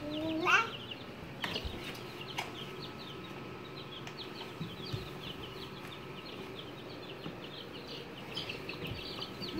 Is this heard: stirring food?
no